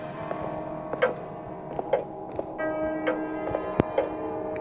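Steady clock ticks in the horror video game Sinister Edge, sharp clicks about once a second over a low sustained musical drone and held tones, with no talking.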